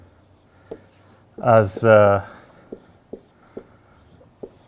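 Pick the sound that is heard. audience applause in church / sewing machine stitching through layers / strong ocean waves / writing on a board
writing on a board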